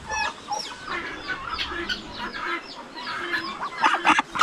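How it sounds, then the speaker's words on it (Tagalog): Chicks and chickens let out of their cage cluck and cheep in quick, overlapping bursts, fairly close and busy, with no talking over them. "Pinakawalan pa natin yung ating mga sisiyo na nasa loob ng kulungan."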